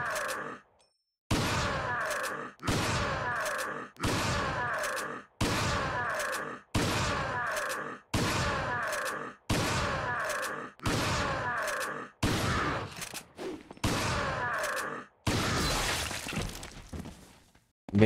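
Gunshots in Resident Evil 4 on the Survive in Hell challenge, a string of about a dozen loud, evenly spaced blasts each trailing into a short decay, followed by a crashing, breaking burst at the end.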